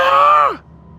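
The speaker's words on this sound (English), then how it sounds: "just heard another scream" A single loud, high vocal scream holds for about half a second, then sweeps downward in pitch and breaks off, leaving a faint steady hum.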